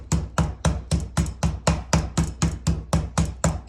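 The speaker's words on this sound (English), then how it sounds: "your hammer or mallet is going to get full of pounded protein" Meat mallet pounding chicken on a board, a steady run of about a dozen evenly spaced, loud, close thuds with no talking.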